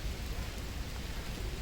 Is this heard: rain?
yes